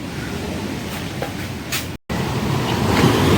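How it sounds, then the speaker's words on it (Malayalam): Sea waves wash in a continuous broad roar below Varkala cliff, steady and fairly loud throughout, with a brief dropout midway. "ഇരിക്കുമ്പോൾ തന്നെ അവിടുത്തെ സൗണ്ടൊക്കെ കേൾക്കും തിരമാലയുടെ"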